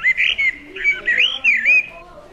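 Blackbird song played from a children's sound book: several short fluting, whistled phrases in quick succession, clear and close, with brief pauses between them and no talking over it.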